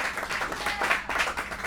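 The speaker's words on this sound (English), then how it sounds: "Round of applause for Good Morning America." A studio audience claps in a brief, steady burst of applause on a talk show set, fairly close and continuous with no speech over it.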